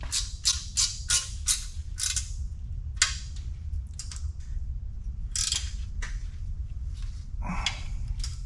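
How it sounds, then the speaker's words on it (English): A wrench ratchets on small 10 mm bolts during a 454 big block install on a 1972 Chevrolet C10, quick bursts of sharp metallic clicking in short runs, close and fairly quiet over a low background hum. "Let's get that one with a wrench"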